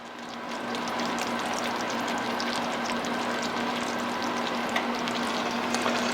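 Vanilla stirred into hot caramel candy in a pan, a steady soft bubbling sizzle with light scraping from the stir, no talking.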